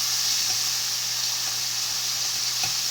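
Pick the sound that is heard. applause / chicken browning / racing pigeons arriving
chicken browning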